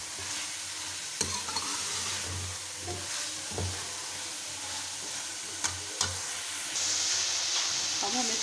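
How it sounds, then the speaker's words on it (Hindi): Goat liver (kaleji) sizzles and fries steadily in a pan, with occasional clinks and scrapes of a spoon stirring it, close and continuous without speech. "अच्छी तरीके से भून लेते हैं"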